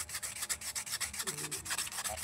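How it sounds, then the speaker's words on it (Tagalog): Sandpaper scrubs a Mikata electric fan's shaft in quick, rhythmic back-and-forth strokes, a close, raspy hiss pulsing several times per second. "kaya kaya kailangan nating linisan yung shafting at lilihain natin yan"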